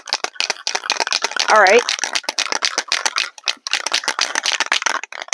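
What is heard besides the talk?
shaking a can of lacquer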